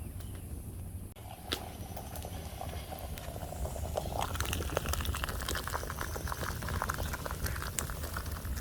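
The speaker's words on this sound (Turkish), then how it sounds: "çay suyumuz, kahve suyumuz kaynıyor" Water boils for tea and coffee over an outdoor fire, a steady bubbling and rolling roar that grows busier partway through, mixed with faint outdoor background noise.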